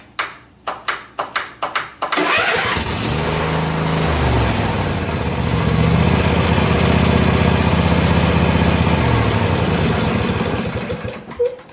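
A Snapper riding mower's small engine is cranked several times with quick rhythmic clicks, then catches and runs, rising with throttle to a loud steady idle close by, with no voices.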